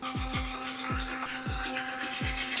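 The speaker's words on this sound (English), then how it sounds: "it is the best toothbrush, I want to say, on the market, low-key" A toothbrush scrubs teeth up close in a steady back-and-forth rhythm, about five strokes in under three seconds, alone with no talking.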